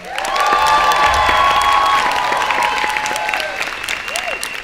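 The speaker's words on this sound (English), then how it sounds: "So let's hear it for Noah Wong." Loud crowd applause with cheering and whistles at a student musical theatre performance, sustained and dense, heard up close.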